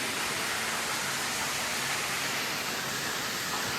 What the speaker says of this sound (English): Water pissing everywhere.